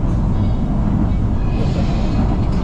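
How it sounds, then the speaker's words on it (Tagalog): Riding inside an LRT light rail train, a steady low rumble of wheels and carriage fills the space continuously, loud and close. "Ayan, sa LRT kami."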